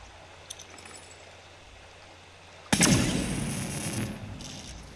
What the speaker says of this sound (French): Je lance ma grenade.